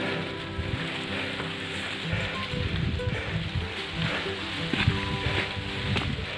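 Rain patters steadily on the summit of Mount Slamet, a close hiss punctuated by irregular thumps and rustles, with little wind and no talking.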